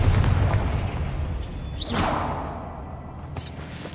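A Confringo fire spell is cast in the Hogwarts Legacy game, a rushing whoosh that swells into a rumbling blast over a dense, loud game soundscape with low booms.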